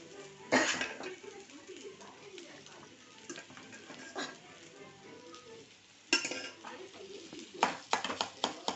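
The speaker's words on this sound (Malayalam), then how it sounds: "ചോറിട്ട് ഇങ്ങനെ ഇളക്കി കൊടുത്തിട്ടുണ്ട്" Rice mixed with beetroot is stirred in a pan, with soft scraping, clinks of a utensil against metal and faint sizzling. Louder bursts of stirring come near the start and toward the end.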